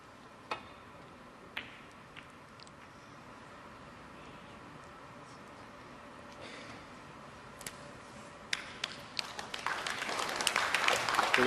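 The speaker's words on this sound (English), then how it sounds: "good safety, applauded by the crowd here." A snooker crowd at the 2017 World Cup quarter-final between England and Northern Ireland applauds a safety shot. A few scattered claps give way to applause that swells and grows dense toward the end, with no talk.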